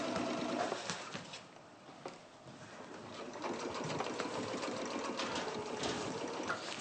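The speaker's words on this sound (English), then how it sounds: "I'm just straight stitching, yeah, nothing fancy" A sewing machine runs a plain straight stitch in a craft studio, a steady mechanical whirr with rapid needle ticking that dips briefly and then resumes, close and continuous with no one speaking.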